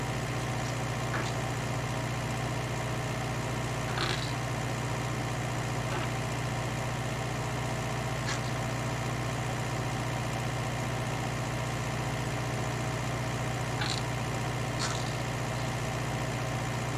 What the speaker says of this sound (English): So tractor working well